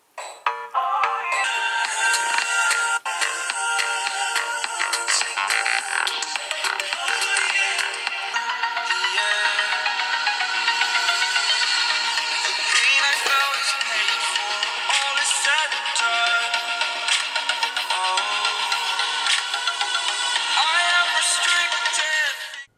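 Music sample played loud through the single bottom-firing speaker of a Samsung Galaxy M51 phone, a steady, bright, full-volume stream of sound lasting throughout with no talking.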